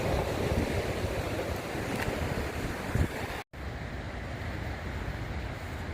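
Steady roar of sea surf in the distance below trees at İnebolu, mixed with wind rumble, continuous and fairly loud outdoors, with a brief dropout partway through.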